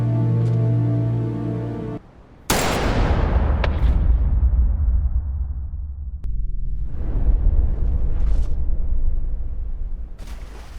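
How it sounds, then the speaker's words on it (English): A gunshot rings out in a tense TV drama standoff, a sharp loud blast at about two and a half seconds that leaves a long booming decay, followed by a second swelling rumble of action sound. "He even shoots Jun-ho in the exact same shoulder"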